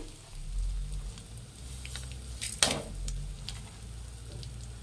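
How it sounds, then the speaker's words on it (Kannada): Coriander, fenugreek and mustard seeds fry on low flame in a pan, a soft steady sizzle with the faint scrape of stirring and one brief sharp clink, quiet and alone. "ಫ್ರೈ ಮಾಡಿ ಲೋ ಫ್ಲೇಮಲ್ಲಿ ಇಟ್ಟು ಫ್ರೈ ಮಾಡಬೇಕು, ಇಲ್ಲ ತಳ ಹಿಡಿದ್ಬಿಡುತ್ತೆ"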